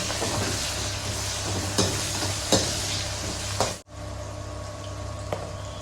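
Onion, melon seeds, cashews, garlic and ginger sizzle and fry in a pan for a Punjabi kofta curry, a steady broadband hiss with a few sharp stirring clacks; the frying noise cuts off abruptly near the end, then resumes more quietly.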